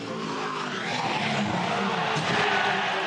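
Loud, continuous roar of a V8 touring car at high speed at the Bathurst 1000 race, with a skidding, scraping rush, ending in a heavy impact against a barrier wall.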